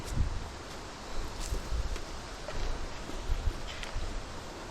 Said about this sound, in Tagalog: Wala pong katapusan na hangin ngayon.